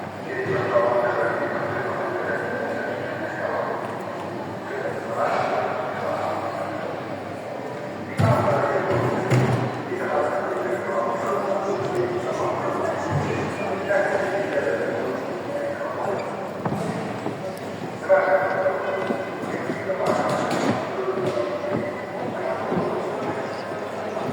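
Announcements from a loudspeaker echo through a large, reverberant station-like hall, mixed with crowd murmur, occasional thuds and a train-like rumble, while people talk nearby.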